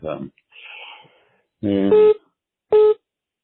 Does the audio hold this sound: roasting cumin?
no